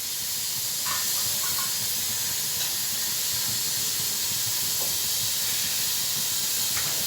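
Steady hiss of steam escaping from a pressure cooker on the stove after the burner is switched off while cooking masoor dal, a continuous close, loud rush with no voices.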